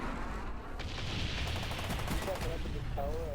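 Muffled gunfire crackles continuously in a shooter video game, fairly quiet and steady, with a faint voice briefly heard underneath.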